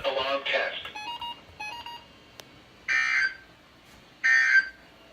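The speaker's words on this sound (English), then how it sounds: "This has been an alarm test." EAS emergency alert test tones sound as two short, loud, even two-tone bursts separated by quiet, following brief electronic beeps and a burst of talk at the start.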